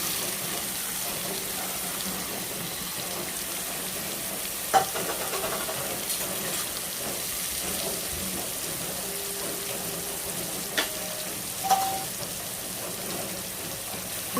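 Dried fish stir-fries over full heat in oil with popped mustard seeds, a low steady sizzle with an occasional scrape or knock of the spatula.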